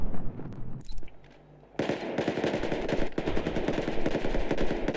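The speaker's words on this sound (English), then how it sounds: "they're shooting us from all the roofs." Rapid automatic gunfire from rooftops in Battlefield 4 rattles on continuously after a brief lull, dense and fairly close, with scattered single cracks before it, with no talking.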